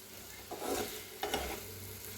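Spices or masala for an egg dish roast in a pan until coloured, a soft sizzle with two brief stirring scrapes, quiet and close with no talking.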